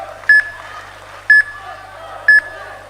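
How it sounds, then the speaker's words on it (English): A competition mat timer at a grappling championship gives three short, sharp electronic beeps, evenly spaced about a second apart, over a quiet venue background. "That beep is from Matt A"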